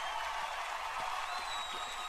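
Steady applause from a crowd in the Chushpan simulator video game, a dense, even patter of clapping with a faint tone rising late.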